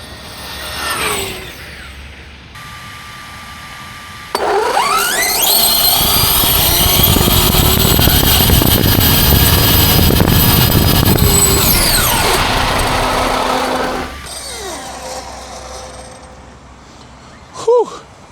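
A vehicle engine on the 5IVE Te speed project pulls hard under throttle, a loud sustained roar whose pitch climbs steadily for several seconds before cutting back, with a voice speaking around it.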